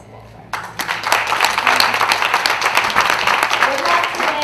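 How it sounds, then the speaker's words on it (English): A crowd at a horse show for riders with disabilities breaks into sustained applause after a brief quiet start, many hands clapping steadily for several seconds. "give all of you a really big round of applause"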